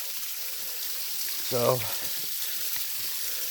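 A waterfall tucked deep in the woods of Lewis County gives off a steady, broadband rushing hiss from start to finish, and a voice briefly speaks over it.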